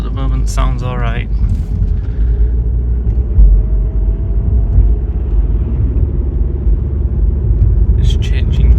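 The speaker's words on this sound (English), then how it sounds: "The car at the moment sounds alright." A cheap used turbocharged car, bought for under £500 and rated at 185 horsepower, drives along with a steady low engine and road rumble heard from inside, while someone talks over it at the start.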